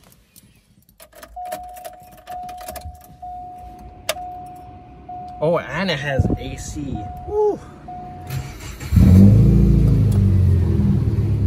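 A 177,000-mile Subaru Forester with a straight pipe and stock headers is cranked after keys jangle and a warning chime sounds, then starts and settles into a loud, close, throaty rumble. A person speaks briefly before the engine catches.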